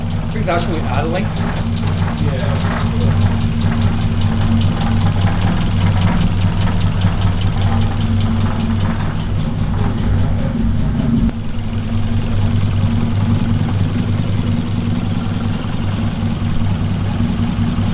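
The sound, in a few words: car engine idling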